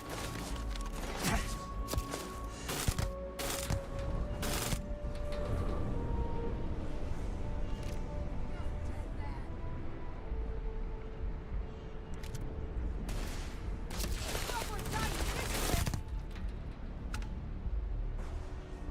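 Enemy gunfire in the Starfield video game, played in survival mode, rattles as dense bursts of sharp cracks and thuds in a constant noisy game mix, with no one talking.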